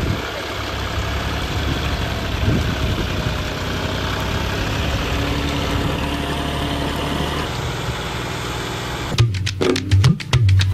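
A tractor engine idling close by, a steady low rumble holding for about nine seconds before rhythmic clunks and knocks break in at the end.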